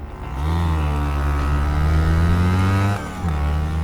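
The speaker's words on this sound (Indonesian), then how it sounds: "Warto langsung menarik gas motor dalam-dalam," A motorcycle's throttle is twisted hard, and the engine roars and climbs in pitch as the bike accelerates away, loud and close, with a brief dip before it pulls again.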